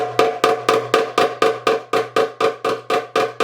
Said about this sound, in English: you want to roll your fingers from ring, middle, index, in that order